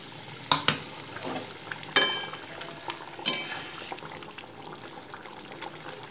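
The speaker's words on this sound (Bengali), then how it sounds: "এবার ভেজে রাখা মাছগুলো এর মধ্যে আলতো করে আমি দিয়ে দিচ্ছি।" Fried pabda fish slipped into a simmering poppy seed curry, several distinct clinks and splashy drops near the start and middle over a soft bubbling, quieter toward the end.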